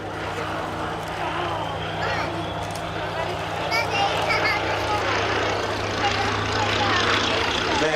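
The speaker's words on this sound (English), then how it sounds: "This is the last pass from the Royal Navy historic flight, Fairey Swordfish 1." Fairey Swordfish biplane with the Royal Navy historic flight making a pass at an airshow at East Fortune, Scotland, its steady propeller-engine drone continuous and moderately loud, with crowd chatter and voices underneath throughout.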